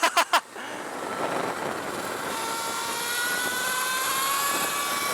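Alta Redshift SM39 electric motorcycle accelerating on Sierra Road, a steady rising whine with a thin tone climbing in pitch over wind rush, after a few brief sharp knocks at the start.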